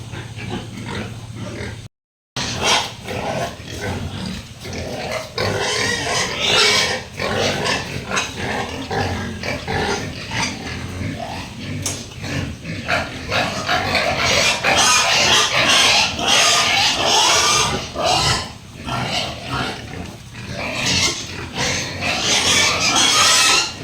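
A pregnant sow grunts loudly and almost continuously, with rougher squeals mixed in, while being injected with ivermectin dewormer; the noise pauses briefly near the start, then runs on close and strong.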